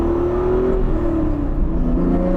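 A Honda NSX NA2 with a titanium exhaust hums at a steady idle-to-light rev, a smooth continuous engine tone close by with a slight pitch dip midway, and no talking.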